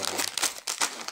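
A plastic wrapper on a chocolate croissant is opened with a short burst of close, crinkling rustles.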